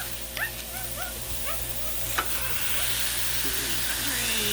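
A burger smashed on a Blackstone griddle gives a steady, close hiss of sizzling fat, with a few faint chirping tones and a soft thump near the start.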